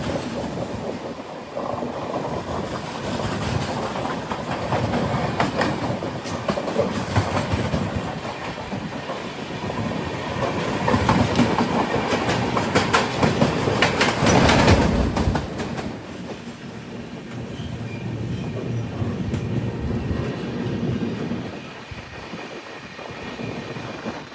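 The Garib Rath Express AC train rumbles steadily along the tracks near Kottayam, a loud continuous roar with rhythmic clatter that swells midway and then settles, no voices.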